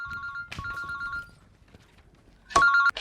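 A telephone rings in a domestic drama scene, close and clear, with repeated electronic trilling bursts separated by a quiet pause, plus a few soft knocks and shuffles.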